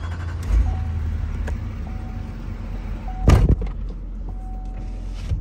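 A 2021 Chevy 6500 flatbed rollback tow truck runs quietly, its low steady engine hum continuous throughout, with a brief clunk near the start, a louder mechanical bang partway through, and faint beeping tones.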